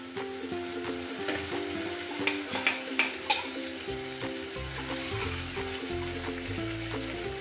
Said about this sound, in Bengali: দু চামচ সর্ষে বাটা দিয়ে দিলাম, এই সর্ষে বাটাটা কষে গেল